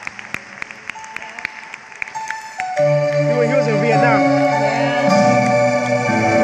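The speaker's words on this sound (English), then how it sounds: "Give them a big round of applause." A handful of scattered claps from a concert audience for the veterans present at a show, thinning out after a couple of seconds as the band's music swells in and takes over.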